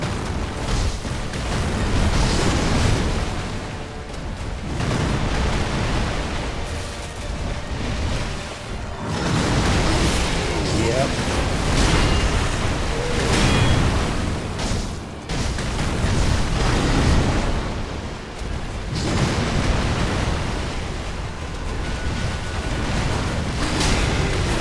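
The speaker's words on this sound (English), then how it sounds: "Firecrackers! Of course, I forgot all about the firecrackers." Firecrackers burst repeatedly in the video game Sekiro, a dense roar of loud crackling blasts that swells and dips in several waves amid busy battle noise, with no pauses of quiet.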